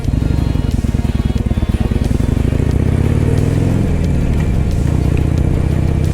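A Harley-Davidson Sportster motorcycle engine runs steadily at high revs while being ridden, a loud continuous low rumble with a slight pitch shift midway and no talking.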